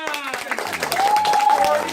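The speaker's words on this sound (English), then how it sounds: "Round of applause for her, everyone!" Applause from a crowd at an elementary school event for a student, steady clapping with a voice speaking over it.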